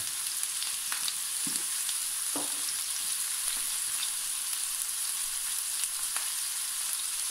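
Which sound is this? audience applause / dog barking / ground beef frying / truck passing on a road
ground beef frying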